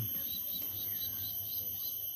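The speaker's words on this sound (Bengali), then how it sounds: "ঝিঝি পোকার ডাক শোনা যাচ্ছে" Crickets chirping beside paddy fields, a faint continuous high trill with rhythmic pulses, mixed with soft distant bird calls and low ambient hum.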